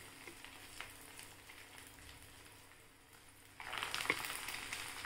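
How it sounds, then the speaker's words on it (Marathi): Potato poha finger chips fry in hot oil, starting as a low, steady crackle that swells into a louder, denser sizzle partway through, heard up close without any talking. "आपण ते तळून घेऊया"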